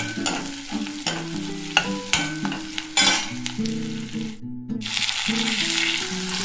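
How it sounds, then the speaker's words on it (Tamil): Onions sauté with salt in a pan for a capsicum and yogurt sabzi, sizzling steadily while a utensil stirs and scrapes in repeated strokes, close and fairly loud. "நல்லா வதக்கலாம் வெங்காயம் வதங்குறப்ப கொஞ்சம் உப்பு போட்டிங்கன்னா சீக்கிரம் நல்லா செவந்து வரும்"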